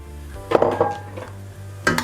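Peas tipped into a pot of softening carrots as it clatters and knocks, with a few sharp metallic hits and light rattles over a steady low hum.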